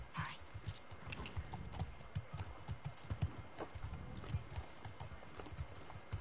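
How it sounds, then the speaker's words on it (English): Steady clip-clop of horse hooves at a walking pace in the video game The Last of Us Part II, with faint voices in the background. "Horses."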